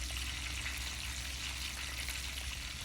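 Catfish fries in oil in a skillet set over a rocket stove, giving a steady, dense crackling sizzle that holds even and close throughout with no pauses and no voices.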